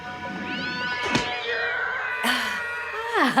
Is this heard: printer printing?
no